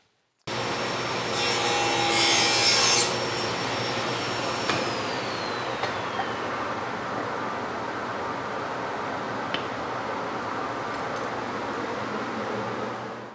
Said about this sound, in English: I'm going to get a piece of hardwood and go over and cut a 5 degree slope on it.